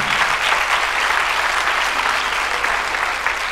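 An audience at a film premiere gala in a shopping mall in İzmir applauds steadily, a dense, continuous wash of many hands clapping close by, with no voices standing out.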